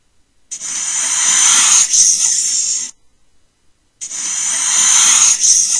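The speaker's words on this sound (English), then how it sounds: "all kinds of snakes" Two long, loud, close hisses like a snake, each breathy and airy for about two and a half seconds, separated by a short quiet gap.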